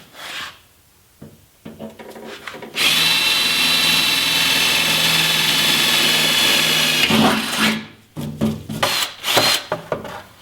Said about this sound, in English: Alright, so now I'm going to go ahead and drill that out.